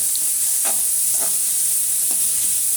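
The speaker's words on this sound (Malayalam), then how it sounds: "കടുക് വറുത്ത്" Mustard seeds fry in a small pan of oil for uppumavu, a close, continuous sizzle with scattered sharp pops and crackles.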